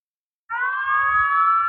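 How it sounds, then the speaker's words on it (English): Fire truck siren starting abruptly and holding a steady, loud multi-tone wail, with low rumble beneath, heard outdoors in Texas amid a busy emergency response. "there goes the fire truck too"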